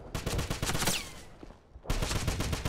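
Loud, rapid bursts of automatic gunfire rattle close by in a Wolfenstein firefight, a dense volley that breaks off briefly, then resumes just as hard.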